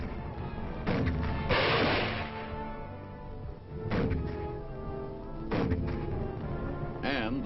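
An artillery barrage during the Korean War pounds enemy positions, a series of heavy booming blasts at irregular intervals, loud and rumbling, with no talk over them.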